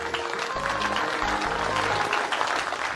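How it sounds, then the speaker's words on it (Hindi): Loud, sustained applause from an audience welcomes a couple onto the stage at an evening engagement ring ceremony, a dense steady roar of clapping throughout. "तो जोरदार तालियों से स्वागत करिए इस ब्यूटीफुल कपल का।"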